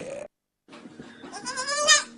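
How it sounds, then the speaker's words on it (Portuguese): A goat bleating loudly and close, a short cry, a brief gap, then a long wavering, rising bleat that swells to a strained peak. "Vejam esta cabra."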